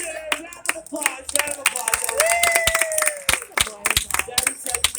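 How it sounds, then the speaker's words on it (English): Audience at a live Monsters Inc. Laugh Floor comedy show at the Magic Kingdom claps in a steady patter of many hands, with music and voices running underneath throughout. "Round of applause."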